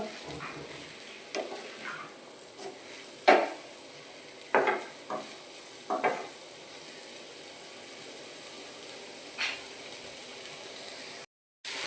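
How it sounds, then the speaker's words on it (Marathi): Kurdai and onion mixture with salt is stirred in a pan, a low frying sizzle broken by a handful of scraping spatula strokes and light clinks, close and without speech, ending in a brief dropout. "चवीनुसार मीठ टाकून घ्यायचं मिक्स करून घ्यायचं"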